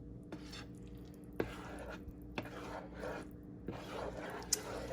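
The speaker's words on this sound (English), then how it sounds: "And the juice from the rotel is really gonna help it kind of loosen up a little. And just gonna keep stirring." A spoon stirs vegan chili mac with Rotel tomatoes in a pot, giving soft scraping and rubbing with a few sharp clinks of utensil against metal, close and fairly quiet.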